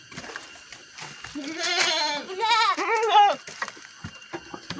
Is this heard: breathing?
no